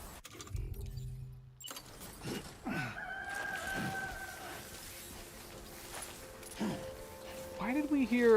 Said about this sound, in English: Why did we hear a rooster?